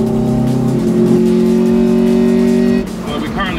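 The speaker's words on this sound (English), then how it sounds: "Here's that awesome intake noise now." Car engine running on methanol only, its intake noise a loud close steady drone with strong tonal hum that drops off near the end, with someone talking over it.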